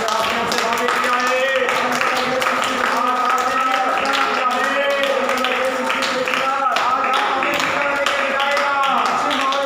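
A church congregation in Andaman claps along during a worship service, with steady rhythmic hand claps running under sustained singing and voices the whole way through.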